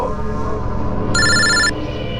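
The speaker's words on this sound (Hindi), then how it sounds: "कोई फोन क्यों नहीं उठाता? फोन उठा लो।" A telephone rings unanswered in a crime drama scene, a short bright electronic ring burst heard over a loud, busy background of music and sound.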